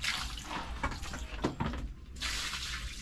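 Water splashes and pours in short bursts while something is being washed and scrubbed with a brush, with quick sloshing hits followed by a steadier running stream.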